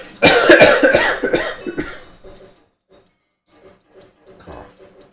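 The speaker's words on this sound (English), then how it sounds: "Cough." A person coughs loudly several times in quick succession up close, then a few faint clicks and small sounds trail off into near silence.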